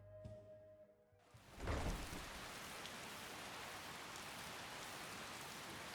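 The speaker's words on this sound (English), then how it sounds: "A little rain. This must be that beautiful Skyrim weather I've always heard about." Rain falls in Skyrim as a steady, even hiss that swells in after a short quiet stretch and carries on without a break.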